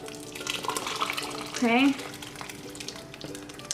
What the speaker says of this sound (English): Now we're gonna pour all this in there, okay?